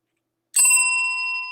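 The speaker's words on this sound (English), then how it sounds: "And finally, the most important, the reminder bell, Ken," A single bright bicycle-style bell ding used as a reminder-bell sound effect, striking sharply after a brief silence and ringing on with a sustained, slowly fading tone.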